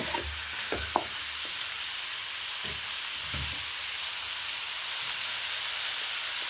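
Steady, loud sizzling and hissing of mutton frying without water in a hot pan, with occasional scraping stirs and clinks over the constant crackle.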